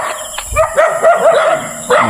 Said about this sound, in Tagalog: May aso na kumantay.